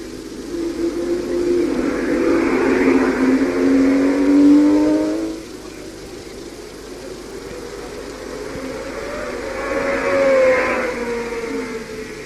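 Richie Ginther drives a Honda RA272 Formula 1 car toward the hairpin at the Monaco Grand Prix, its high-pitched engine screaming as it climbs through the revs and fades, then rising again in a second loud burst.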